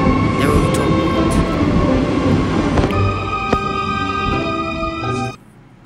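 A train rumbling past in a video game, a loud, continuous rolling roar with sharp metallic clanks and high squealing tones, cutting off abruptly near the end.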